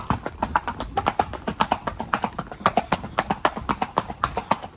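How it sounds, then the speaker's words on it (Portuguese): A gaited horse's hooves clip-clop in a quick, even marcha gait, a steady run of sharp knocks close by with faint talk in the background. "Vocês já ouvem um bocadinho da marcha da besta enjaulada."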